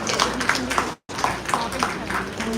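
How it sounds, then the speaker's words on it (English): At an office inauguration, a crowd gives the chief guest a sustained round of applause, dense clapping that drops out for a moment and then carries on strongly. "can we have a huge round of applause for our Chief Guest,"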